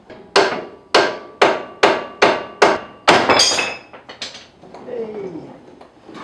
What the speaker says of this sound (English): We've got the claw on here pushing down that bolt. That should come off.